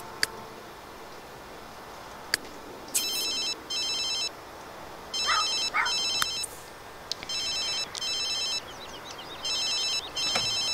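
A telephone rings in repeated double bursts of high electronic trilling, fairly clear over a steady background hiss, with occasional faint clicks and no talking.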